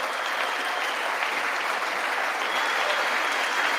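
Steady, dense applause fills a large hall during the State of the Union address, a continuous wash of clapping from a big crowd with no pauses, loud and close throughout.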